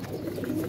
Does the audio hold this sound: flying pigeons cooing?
yes